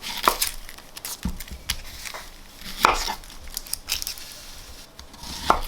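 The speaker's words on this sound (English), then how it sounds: "we'll cut up some onions as well" Onions cut into rings with a knife on a board, a run of crisp separate chops at an uneven pace, close and clear, with slicing scrapes between strokes and no talk.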